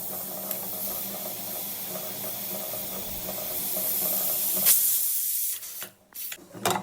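A pressure cooker cooking goat head curry lets off a steady, loud hiss of escaping steam for several seconds, then the hiss cuts out and returns in short, uneven spurts.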